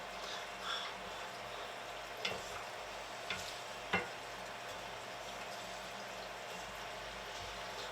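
Thai Cajun seafood curry with lump blue crab meat, shrimp and crawfish simmers in a pot under a faint steady sizzle, with a few soft scrapes and knocks from stirring.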